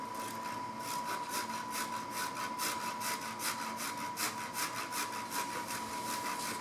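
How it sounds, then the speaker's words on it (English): Garlic cloves are scraped across a kitchen grater in quick, rhythmic strokes, a steady rasping pulse heard close up over a faint background hum. "I'm going to grate 4 cloves of garlic on this grater."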